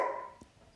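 A dog barks briefly at a distance, one short yelp followed by the start of another, over a steady indoor hum.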